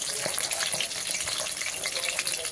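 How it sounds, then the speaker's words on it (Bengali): Pieces of fish frying until reddish-brown in hot oil for a Bengali fish curry, a dense continuous sizzle with spitting crackles and some stirring, close and loud with no voices. "মাছগুলো লাল লাল করে ভাজা হচ্ছে,"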